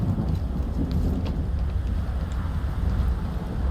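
Steady thunderstorm in Stalker 2: heavy rain hisses continuously over a low, rumbling wash of thunder and wind, unbroken and fairly loud, with no one talking.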